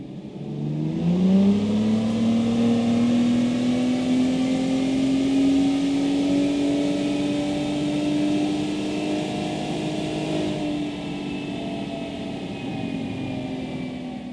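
A third-generation Ford F-150 Raptor's 3.5L engine revving on a dyno with a VR Tuned piggyback: a loud, continuous engine roar that climbs steadily in pitch for several seconds and then holds a high, droning whir to the end.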